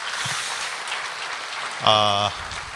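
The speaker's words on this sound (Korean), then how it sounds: "다시 한번 감사의 박수 부탁드리겠습니다." A ceremony audience in South Korea marking the fifth anniversary of the October 4 inter-Korean summit claps steadily throughout, a soft hissing wash of hands, with a brief bright tonal ring cutting through near the end.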